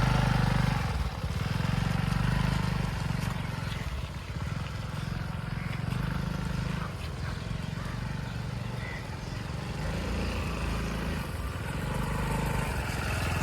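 A TVS XL 100 Comfort moped engine runs while being ridden slowly around a field by a learner, a steady low putter that stays fairly close and moderate in level, with faint voices at times.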